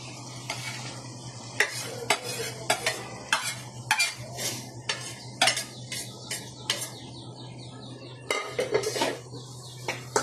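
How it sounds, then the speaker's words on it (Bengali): Chopped onion goes into a hot pan with oil and is stirred with a metal utensil, giving steady sizzling frying under repeated scraping and clinking strokes against the pan, close and fairly loud. "এখন দিব পেঁয়াজ কুচি"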